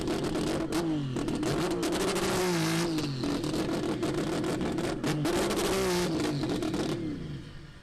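A Mazda RX-7 race car with a 20B turbo rotary engine at a drag strip, loud and close, its engine droning and revving in repeated rising and falling sweeps before cutting off near the end.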